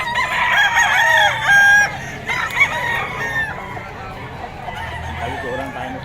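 A rooster at a gamefowl seller's place crows loudly nearby in one long drawn-out call, followed by softer clucking and murmuring as the bird settles, with faint voices in the background.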